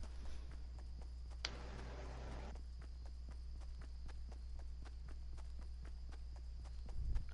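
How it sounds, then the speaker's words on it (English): Footsteps in Fortnite, a faint, regular run of soft thuds at a steady pace, distant and quiet over a low hum, with a brief burst of noise near the start. "Yeah, I feel like I hear footsteps."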